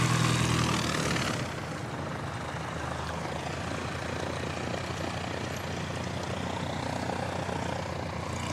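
Qantas jet arriving at Christchurch Airport, a steady distant engine rumble with a louder burst at the start, continuous and without talk.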